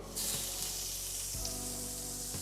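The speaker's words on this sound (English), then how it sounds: "We're gonna melt our butter." Butter melts in a hot pan with a continuous close sizzle and hiss, faint clicks and pops scattered through, and no speech.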